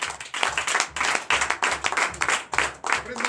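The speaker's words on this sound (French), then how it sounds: "Veillez, donnez de vives acclamations pour vous-même." Clapping and acclaim from a church congregation at a Sunday service in Comè, Benin, in rhythmic bursts with cheering voices mixed in, fairly close and steady throughout.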